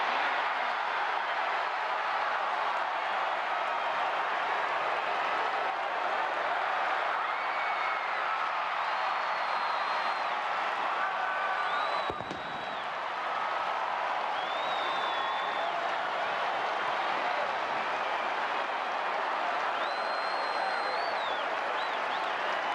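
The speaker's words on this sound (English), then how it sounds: "now listen to this homecoming crowd" A large homecoming crowd at a 1984 college football game between West Virginia and Boston College roars steadily with applause and cheering throughout, a dense distant wash of sound with scattered whistles and whoops.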